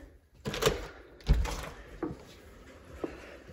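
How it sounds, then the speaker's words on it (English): A house door being opened, heard as a few quiet knocks and clunks with a faint rattle, spaced apart with no talking. "Here, I'm gonna open the door"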